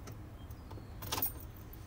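Keys jangle and clink faintly around a car ignition as the key of a Ford with an electronic park brake is turned off, a brief metallic rattle burst near the middle of a quiet cabin.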